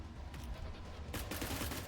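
Bursts of gunfire in the tactical video game Cyber Knights: Flashpoint, a rapid crackling volley that sharpens into a louder cluster of shots in the second half, with no speech.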